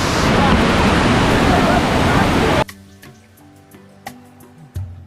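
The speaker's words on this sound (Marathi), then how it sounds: "खूप मस्त होतं इथे मस्त पाणी वाहत" A forest stream flows loudly near a jungle waterfall, a close, dense rushing roar that cuts off abruptly halfway, followed by quiet music with a few faint knocks.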